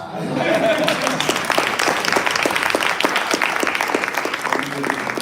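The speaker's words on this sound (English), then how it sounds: "let's give him a round of applause" Applause from a business event audience for founder Corey O'Neal, a dense, steady crowd clapping that stays loud for about five seconds, with some talk faintly mixed in.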